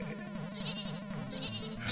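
Sheep bleating in the Mario Maker video game, a wavering electronic bleat repeated over a steady game-music bed, moderately loud and with no talking.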